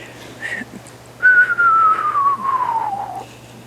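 A person whistles a long, clear note that slides steadily downward in pitch, preceded by a brief short whistle, imitating a descending radio whistler.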